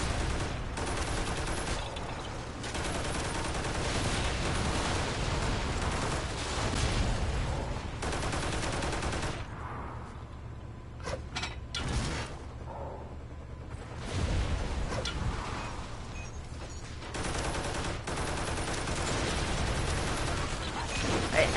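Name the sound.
gunfire from a charged gun in the video game Toy Soldiers: War Chest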